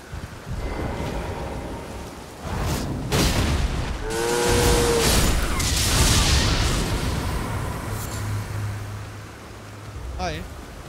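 Lightning crack and rolling thunder in the video game Elden Ring, a broad loud boom swelling and sustained over several seconds amid rain-like noise, with a voice speaking over it.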